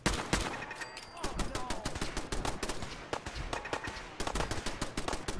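Rapid bursts of gunfire in the Fallout 4 Commonwealth, with dense overlapping shots and automatic fire crackling steadily throughout, loud and continuous without pause.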